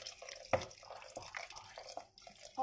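Water pours and splashes into a simmering Thai green curry made with coconut milk, a close, uneven liquid trickle with drips and bubbling that swells toward the end.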